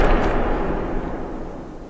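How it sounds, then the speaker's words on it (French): A rifle shot aimed at a boar's skull rings out, its blast already fading into a long, rolling wash of resounding echoes that decays steadily over two seconds with no voices. "La déflagration fait exploser l'air vicié dans une série d'échos retentissants."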